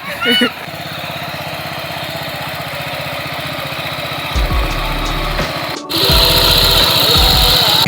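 A farm machine running in a village field, its engine giving a steady buzzing drone throughout, growing louder and rougher near the end, with people talking over it.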